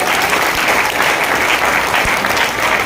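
Audience applause at a presentation event in a hall, a steady dense wash of clapping from a crowd, loud and continuous throughout.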